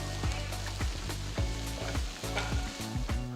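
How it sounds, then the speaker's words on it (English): Onions, chilies and tamarind sauté for a chutney in a hot pan, giving a steady sizzle and frying crackle with repeated stirring scrapes at a fairly even rhythm, close and with no voices. "Continue to saute all the ingredients."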